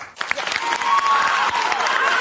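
Applause from a live audience during a talk show segment on men's reproductive rights, a dense wash of clapping with some crowd voices mixed in, steady and fairly loud throughout.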